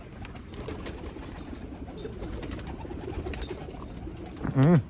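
Pigeons cooing near an open coop at feeding time in the open air, a soft run of low coos rising to a louder, closer burst at the end over steady outdoor background noise.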